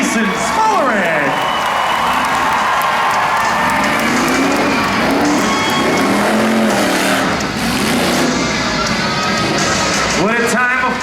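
A tuff truck races over obstacles at a county fair, engine revving hard and surging as it climbs and drops, with a cheering crowd and an announcer talking over the loud motor.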